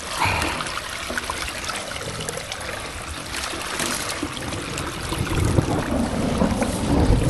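Water gushes out of a pipe into a roadside ditch leading toward a creek, a loud steady rushing and splashing close by, mixed with wind noise on the microphone.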